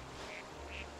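Two short duck quacks from the video game New Pokémon Snap, spaced apart over a low steady game-music background with no talk.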